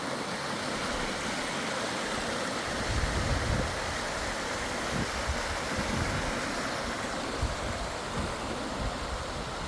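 Steady rushing of Jenny Creek, a tributary of the Klamath River, flowing in January, a continuous broad wash with faint wind, close and unbroken throughout.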